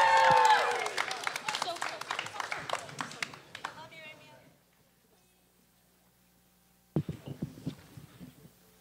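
Audience applause and cheering for a student poet at a Grade 11/12 spoken-word competition, loud and dense at first, then fading into near silence before a voice begins near the end.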